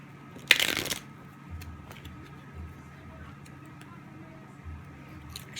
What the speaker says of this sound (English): Let me shuffle these cards for Taurus.